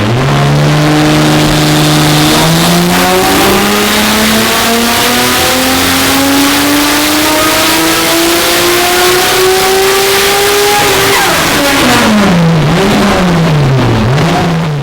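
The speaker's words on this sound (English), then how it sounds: "this crazy RB20 powered Ford Falcon, which has just been tuned on a Link ECU" A tuned RB20-powered Ford Falcon on a Link ECU revs hard and close, its engine note climbing steadily for about ten seconds before dropping and wavering through a couple of lower blips, loud and without talk.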